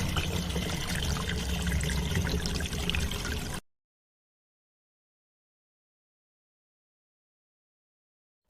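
Cartoon waterfall water flowing in a steady rushing hiss for a few seconds, then cutting off abruptly into silence.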